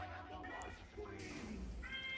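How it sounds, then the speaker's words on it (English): A pet cat meows several times in a room where game audio plays, its drawn-out cries rising over steady background sound, with a person talking nearby. "please excuse my cat"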